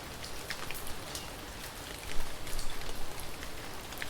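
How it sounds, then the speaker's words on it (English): Heavy rain falling on cobblestone streets at night, a dense steady hiss of drops with crisp individual splashes that swells louder midway and stays close throughout. "The rain came down in relentless sheets, cascading off the edges of the cobblestone streets and pooling in the gutters."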